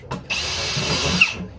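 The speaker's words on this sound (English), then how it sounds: "Just drill them in there like that." A power drill bores a hole into a plastic bucket, a brief close-up motor whine lasting just over a second after a short initial burst, with no talking.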